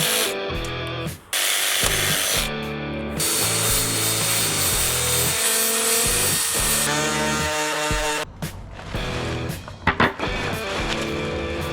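Wooden handle pins, cherry wood, being cut down flush on a forged hatchet, a loud steady sawing or power-tool grind running almost continuously with brief pauses and a few knocks near the end.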